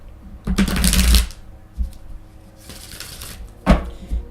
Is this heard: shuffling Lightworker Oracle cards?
yes